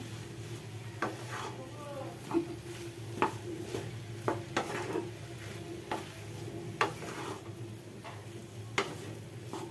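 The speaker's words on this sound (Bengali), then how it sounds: "নাড়াচাড়া করে নিই এটা মশলাগুলো যাতে পোলার আলুর মধ্যে পুরোপুরি মেখে যায় ভালো মতন" Elephant foot yam and potato pieces are stirred with spices in a pan, with a soft background sizzle and a spoon tapping and scraping the pan in irregular clinks, heard close and fairly quiet.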